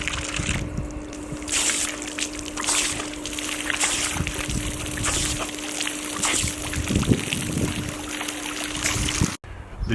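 Pool deck jets shoot water across a backyard pool while a dog plays in the streams, giving uneven splashing and trickling bursts over a steady hum, with a brief cut near the end.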